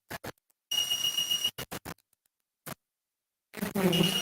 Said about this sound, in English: with the moisture percentage, the buzzer is activating